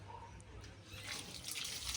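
Water is poured over a horse during washing, a faint, soft splashing and trickling close to the microphone that grows slightly louder toward the end, with no talk.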